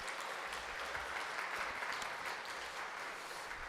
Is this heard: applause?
yes